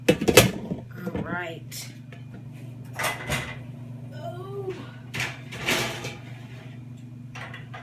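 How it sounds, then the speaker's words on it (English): A meatloaf pan clanks against an oven rack and a home oven door thumps shut, a few sharp metallic knocks and bumps amid steady kitchen hum, with a person talking briefly between them. "About to put it in the oven for about 45 minutes."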